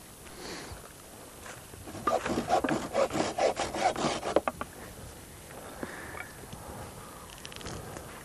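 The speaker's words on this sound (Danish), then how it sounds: "Sådan, så saver du der." A hand saw cuts through wood in a woodworking shop, making chair rungs, with a run of steady rasping back-and-forth strokes that starts partway in and then stops, loud and close, followed by quieter handling noises.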